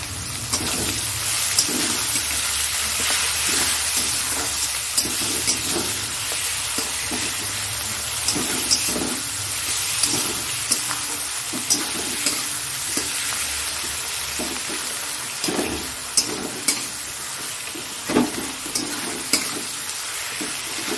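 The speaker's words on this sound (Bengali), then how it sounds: "এবার পেঁয়াজটা দিয়ে দেবো" Chopped onions sizzle and fry in hot oil alongside cinnamon, cloves and cumin, with a steady loud hiss and repeated scraping strokes of a stirring spoon throughout.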